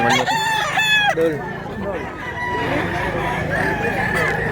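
Roosters crow loudly and close at a crowded chicken market in Mantalungon, Cebu, one long crow rising early and others following over clucking and crowd noise, with people talking.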